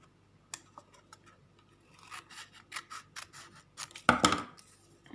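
Scissors cut folded scrap paper for a homemade notepad: a run of crisp snips and rustles that grows busier, with a louder crunching cut near the end, close up and with no voices.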